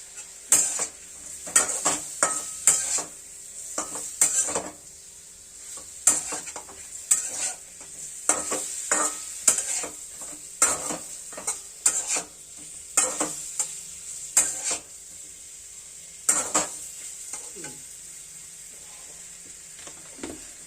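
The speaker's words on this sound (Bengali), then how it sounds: "পনির তো নাড়া হয়ে গেছে" Paneer fries with a light hiss in a pan while a spoon stirs it, producing regular scraping and clinking strokes against the metal throughout, close and clear with no talking.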